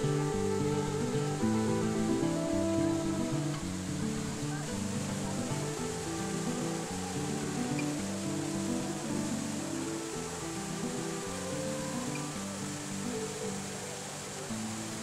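La Fortuna waterfall roars with a steady, dense wash of rushing water that continues unbroken throughout, with a voice speaking over it.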